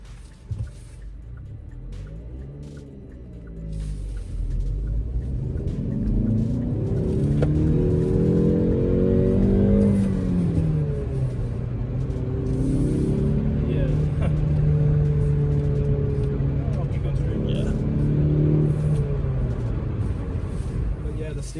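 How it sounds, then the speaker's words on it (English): A Hyundai Veloster N accelerating through a turn under throttle, its engine droning and rising steadily in pitch from inside the cabin while a person talks over it. "how it accelerates around this turn under throttle."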